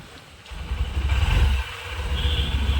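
A Honda Dream CD110 motorcycle engine runs close by, idling low before rising into a rougher throttle blip and then settling into an uneven putter. The sound is short and moderately loud.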